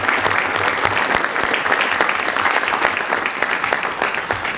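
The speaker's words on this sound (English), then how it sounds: "I think we all need to give Ellen a very big round of applause." Audience at an event breaks into a big round of applause, dense continuous clapping heard close and steady throughout.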